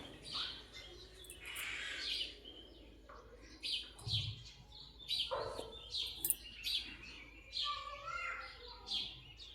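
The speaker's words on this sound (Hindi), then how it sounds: "मस्त चिड़ियाएं चहक रही हैं।" Several birds chirp and tweet outdoors in the morning, a lively scatter of short, fairly faint calls continuing throughout with soft background hum.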